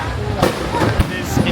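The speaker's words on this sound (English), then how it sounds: "there's no end in sight of this fireworks show" Fireworks display for Chinese New Year in Penang, Malaysia, with a few dull booms and crackling bursts at a middling distance over a steady crowd murmur and nearby voices.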